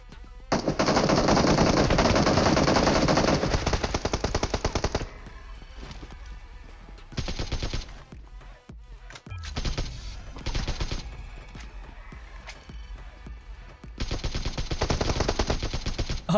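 Rapid automatic gunfire fills a mobile battle royale squad fight, with loud sustained bursts broken by short pauses and fainter distant shots between, and no talking.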